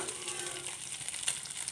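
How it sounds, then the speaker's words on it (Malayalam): Oil sizzles steadily with a bright, crackling hiss as anchovies fry in a pan, close and continuous. "നെത്തോലിയൊക്കെ നന്നായിട്ട് ഫ്രൈ ആയിട്ട് വന്നിട്ടുണ്ട്"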